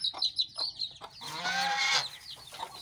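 Young desi chicken chicks on a farm, a few short chirpy clucks followed by a longer, louder call from a bird nearby, heard alone without speech.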